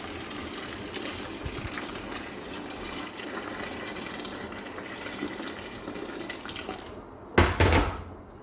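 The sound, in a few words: water running from a tap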